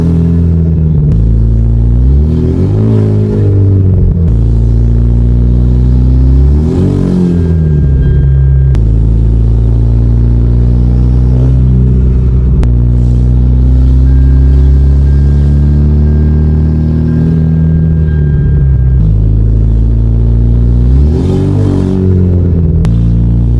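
A turbocharged Hyundai Genesis Coupe engine revs repeatedly in loud, close bursts, rising and falling with rhythmic turbo flutter chatter between pulls over a steady rumbling idle.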